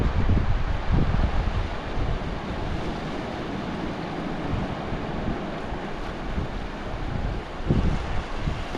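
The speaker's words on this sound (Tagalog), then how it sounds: "Laki ng alon po." Big sea waves roll and churn under strong wind buffeting the microphone, a steady, loud wash of surf and gusts with no voices, heard out at sea while hunting sea snakes.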